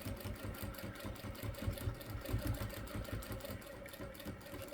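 A sewing machine stitches an iron caddy, running steadily with a rapid, even mechanical rhythm close by and no voices over it.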